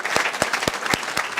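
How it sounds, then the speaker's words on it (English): Applause from a gala audience, dense clapping with a few sharp, loud individual claps standing out at a steady rhythm over the crowd's continuous patter. "I do want to give a round of applause to our MC, Mr. Mitch Capel."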